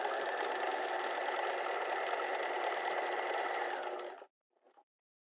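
A sewing machine stitches fabric in a steady, fast, continuous whir for about four seconds, then stops abruptly, followed by a brief faint mechanical click.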